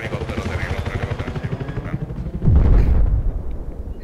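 A helicopter in the video game Battlefield 4 drones with a pulsing low rotor thump, joined by a loud burst of gunfire or an explosion midway, with people talking over it.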